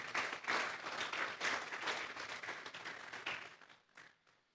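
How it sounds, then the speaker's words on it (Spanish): Congregation in a church clapping loudly and continuously, a dense wash of applause that tapers off toward the end. "Denle un fuerte aplauso pues al Señor"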